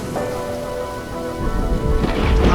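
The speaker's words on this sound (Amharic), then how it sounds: "ውሃው ለ40 ቀናት ያለማቋረጥ በምድር ላይ ዘነበ።" Heavy rain pours in a dense, steady wash, with a deep rumble swelling near the end, close and loud with no voices.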